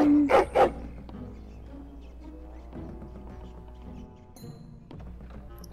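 A big dog in the video game Dragon Age: Origins gives two loud, close barks at the start, followed by quieter thuds and game sounds with a low ambient hum.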